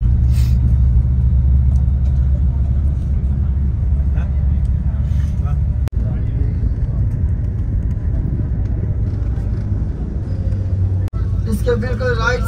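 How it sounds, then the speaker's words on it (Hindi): A car drives along a road near Taif, giving a steady, loud low engine and road rumble that holds throughout, with faint speech-like babble and a couple of brief clicks. "अभी हमारी गाड़ी जा रही है"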